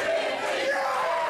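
A wrestling crowd at a live match roars and cheers for a wrestler in a sustained, loud wash of voices filling the arena without a break.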